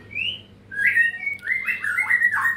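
A wild white-rumped shama sings in forest, clear whistled phrases and chirps rising and falling in quick succession, close and loud over a faint low background hum.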